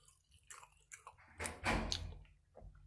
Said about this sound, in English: It does need a lot of chewing.